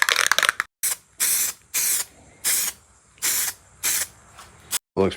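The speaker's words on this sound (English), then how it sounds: "got this spray paint." A spray paint can hisses in six short, even bursts separated by brief pauses, loud and close, with no talking.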